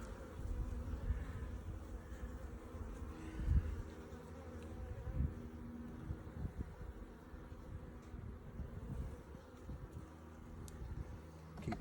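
Honeybees buzz steadily and fairly close during a hive inspection, where the workers are drawing out comb; the droning hum holds unbroken throughout, with a few brief louder swells and no voices.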